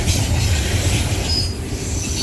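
A Norfolk Southern freight train rolls past close by, a steady loud rumble of wheels and cars with faint squealing and clatter, no voices.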